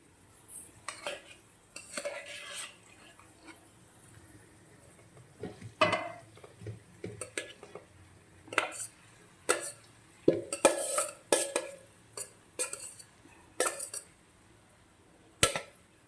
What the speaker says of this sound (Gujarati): હવે આપણે તેમાં બોઇલ કરેલા ચોખા નાખી દઈશું